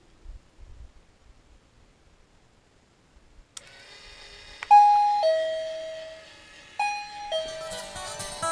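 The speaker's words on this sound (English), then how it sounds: "a bell will sound, and the chickens will come running" Two bell chimes from a timer-controlled automatic chicken feeder ring out clearly after a few seconds of near silence, each a bright two-tone ding over faint mechanical hum and rustling.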